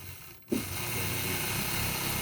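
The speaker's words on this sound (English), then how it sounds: "I do all of my quilting on a long arm machine" A long arm quilting machine starts with a soft thump, then runs at a steady, even whir while stitching a quilt, moderately close and with no talking.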